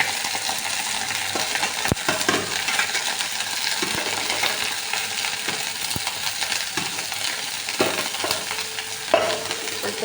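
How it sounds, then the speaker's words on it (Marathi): Aloe vera fries in very hot coconut oil in a pan, a steady close sizzle running the whole time, broken by sharp clicks and scrapes of stirring. No one speaks. "तेल असं तापलं, कडकडीत तापलं की त्याच्यामध्ये हे ॲलोवेरा टाकायचे"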